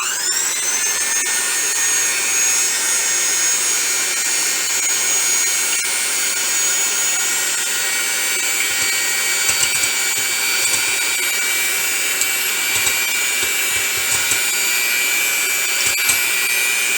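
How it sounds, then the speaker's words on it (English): Eggs being whisked, likely with an electric whisk, for fried zucchini and eggs in a home kitchen: a steady, loud, continuous whirring hiss that runs unbroken for the whole stretch, with no talking. "So now I'm about whisking my egg."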